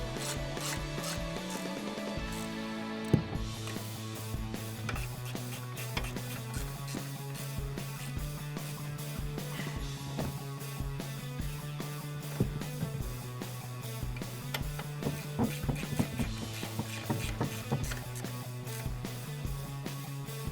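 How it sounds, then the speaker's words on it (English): An 18mm ratchet wrench works the nuts on a 2007-2018 Silverado front leveling kit, a long close run of steady, rapid rasping clicks with a low droning tone underneath and occasional sharper knocks. "we're going to tighten these nuts up using an 18mm wrench"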